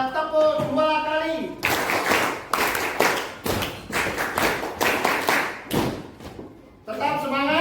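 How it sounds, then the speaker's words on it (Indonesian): A group at a school session, likely teachers or students, answers a call with rounds of quick paired claps, loud and close, in several bursts. A voice speaks before and after the clapping. "Bila mendengar suara saya, tepuk 2 kali"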